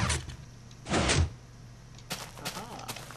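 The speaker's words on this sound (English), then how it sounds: "This little thingy here is the automatic door I'm working on." An automatic door in a Minecraft-style video game opens with short mechanical whooshing bursts, followed by a cluster of lighter clicks and sliding sounds, heard fairly quietly.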